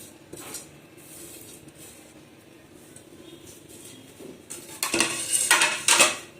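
Poha thalipeeth ingredients with salt and coriander being mixed together in a bowl, heard as faint stirring that builds into loud, close clattering of utensil against the bowl near the end.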